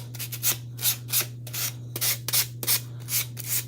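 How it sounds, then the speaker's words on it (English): Sanding the rough edges of a Chalk Couture patriotic stars project by hand, quick rhythmic rasping strokes repeated about ten times at close range over a steady low hum. "I can sand it. Those edges looking a little rough."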